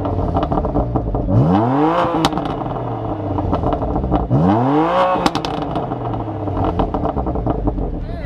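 A BMW M2 with its stock exhaust revs hard twice from idle, each sweep rising and falling, loud and close, with a steady idle rumble between the revs.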